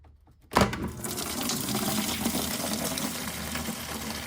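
Coolant gushes suddenly from the radiator of a BMW E39 M5 into a catch container, a steady splashing pour that continues loud and close after a sharp start.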